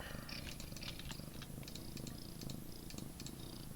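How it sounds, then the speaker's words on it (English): Close, continuous purring from a house cat, a low rumbling pulse with a regular breathing rhythm and nothing else over it. "I do apologise for the cat in the stream tonight"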